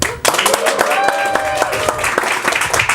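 Audience in a poll-style show cheering and clapping, dense sustained applause with sharp claps and crowd noise throughout, fairly loud and steady.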